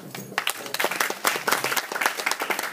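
An audience at a party stands and claps in a dense burst of hand claps, loud and close, with a busy, uneven rhythm that carries on steadily to the end.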